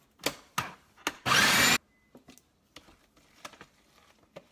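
A food processor chops nut loaf ingredients in one short, loud whirring burst, framed by several sharp clicks and knocks from handling the machine.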